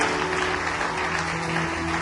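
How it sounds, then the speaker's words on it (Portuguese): A congregation applauds during a church service, a continuous wash of clapping heard at moderate distance over a low steady hum, with no clear talking. "Vamos aplaudir o Senhor por isso, amado."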